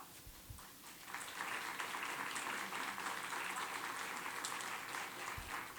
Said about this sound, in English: Thank you so much for giving that round of applause